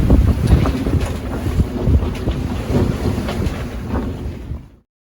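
Strong wind roars and buffets over a sailboat at sea, with heavy low rumbling gusts and water wash, close and loud, continuous until it cuts off abruptly near the end.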